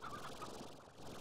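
Faint chickens cluck and warble softly over a steady ambient bed in the Slime Rancher video game, with no speech.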